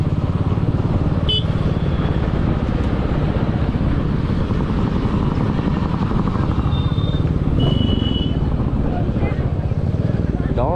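A motorcycle speeds along the open road on a ride from Pune to Mahabaleshwar, its engine and rushing wind forming a loud, steady roar that holds for the whole stretch.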